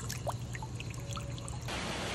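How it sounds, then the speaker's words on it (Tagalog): Water flowing and dripping outdoors in the rain, a faint steady trickle with a few scattered drips over a low background hum, fairly quiet and without voices. "Agas ta, agas. Nag-drip."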